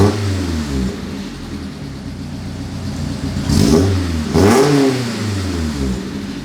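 Exhaust of a Mazda Miata NC idling with a low, burbly rumble, then revved twice in quick succession, each rev a short rising bark that drops back to the loping idle, close and loud.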